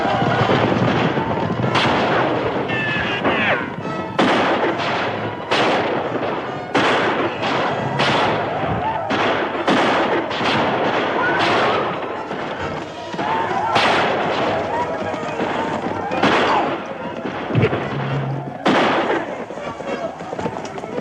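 Rapid, irregular gunfire in a western movie battle: dense volleys of loud, sharp shots and booming reports cracking almost continuously, with brief lulls, under a busy battle din and shouted voices.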